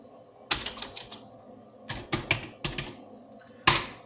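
Keystrokes on a computer keyboard while typing a Google search, clustered in three short bursts of close, crisp taps with brief pauses between them, ending in one harder final key press.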